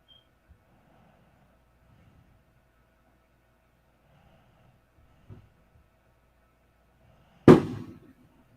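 Fireworks go off outside at a distance: near-silence broken by a faint thump, then one sharp loud bang that rumbles away.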